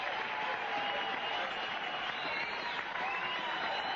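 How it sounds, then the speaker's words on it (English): A football stadium crowd applauding at a Buffalo Bills versus Green Bay Packers game in Milwaukee, a broad, steady wash of distant clapping that runs evenly through the whole stretch with no breaks. "The applause you may hear in the background"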